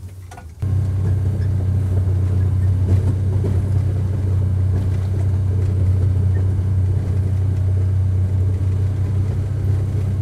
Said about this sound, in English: I'm pushing it against the old snowbank where I plowed several days ago.